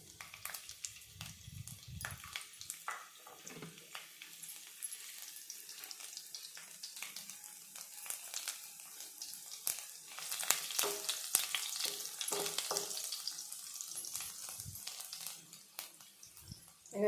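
Minced garlic goes into hot cumin in a frying pan, crackling and sizzling steadily with scraping stirs, fairly close and fizzing louder toward the end, with no talk.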